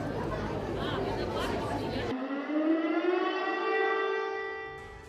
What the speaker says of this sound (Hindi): Red alert, air red alert जारी किया गया। वहां पर सायरन बज रहा है